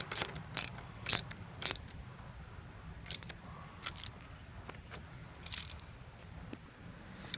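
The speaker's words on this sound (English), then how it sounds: "now we'll go ahead and get our negative cable tightened back up here" A 10mm ratchet tightens the negative battery cable clamp on a Chevy Malibu, giving sharp, irregular metallic clicks in short bursts over a quiet background, fairly close.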